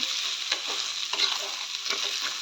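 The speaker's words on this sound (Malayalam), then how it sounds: "ഇത്രയും ആഡ് ചെയ്യുന്നതിന് ശേഷം നന്നായിട്ട് ഇളക്കി" Clam meat frying in a pan with chilli powder, a loud, steady sizzle close by, broken by repeated scraping strokes of the stirring spoon.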